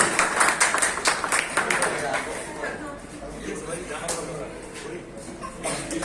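A group claps by hands during a company tour gathering in Cox's Bazar, the patter steady and fairly close under a voice speaking over it throughout.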